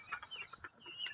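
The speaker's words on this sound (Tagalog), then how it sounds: "Ito, mga alagang manok, chicken." A few short chicken clucks close by, soft and irregular, over quiet background noise.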